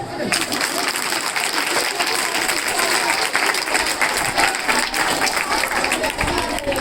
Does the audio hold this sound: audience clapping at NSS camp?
yes